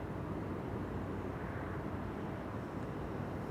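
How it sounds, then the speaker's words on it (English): An Air Canada Boeing 787 Dreamliner arrives from Toronto at Amsterdam Schiphol, its engines a soft, steady broadband rush at a distance with no other sounds over it. "Dreamliner on arrival. Air Canada flight 808 arriving from Toronto"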